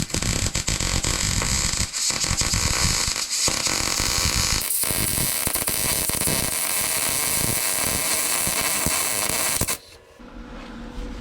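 Wire-feed welding on a Foxbody Mustang torque box, with the wire speed turned up, a dense, loud, continuous crackling hiss that runs steadily for nearly ten seconds, briefly interrupted early on, then cuts off into quiet.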